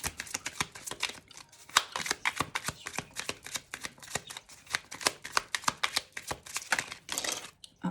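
Tarot cards are shuffled in a rapid, steady run of crisp riffling snaps lasting several seconds, close and clear with no voices.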